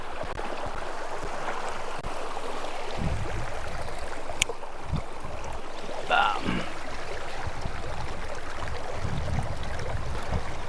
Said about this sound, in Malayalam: കളകളനാഥം ഒഴുകുന്ന ഭവാനി പുഴയിൽ